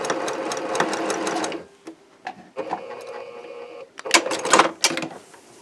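Sewing machine stitching diamond seams on a lone star quilt, several short bursts of rapid close mechanical chatter separated by brief pauses and handling sounds.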